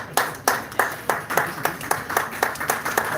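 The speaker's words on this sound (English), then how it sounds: "And a great applause to all of you." Rhythmic group clapping from an audience at a talk, sharp regular claps in unison at a steady beat, fairly close and loud, with no other sound over them.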